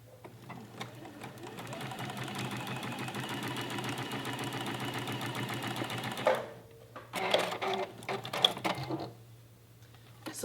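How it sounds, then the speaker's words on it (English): A sewing machine with a patchwork presser foot stitching a quarter-inch seam through cotton piecing using an 80/12 universal needle, a steady fast mechanical whir for several seconds, then stopping, followed by a few short bursts and clicks. "So there is the seam that I've sewn with the patchwork foot."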